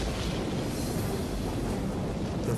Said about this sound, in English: the steamboat Sultana was rocked by a boiler explosion 7 miles north of Memphis.